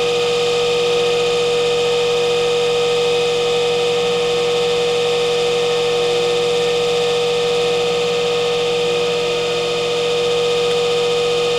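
A vintage Sears Kenmore 8-inch table fan runs steadily, giving a loud, even motor hum with a constant tonal whine and no variation throughout.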